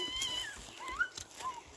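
A cat gives several soft, short meows, faint and somewhat distant, with quiet background noise between them.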